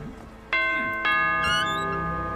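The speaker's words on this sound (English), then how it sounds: "We could try the doorbell." A doorbell chimes twice, two bright ringing ding-dong tones about half a second apart, each ringing on and fading slowly, close and clear with no talk.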